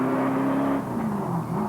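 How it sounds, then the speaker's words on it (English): A Studebaker race car in the 1998 Carrera Panamericana rally, its engine droning loud and steady close by, pitch dipping slightly as it runs, with no talk. "the Studebaker looking good, sounding good, and clearly going well"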